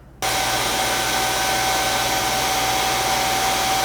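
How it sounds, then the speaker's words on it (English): A Shark Detect Pro robot vacuum self-emptying into its dock: a loud, steady whooshing roar kicks in abruptly, holds constant with a faint high whine, then cuts off sharply near the end. "And here's what it sounds like while self-emptying."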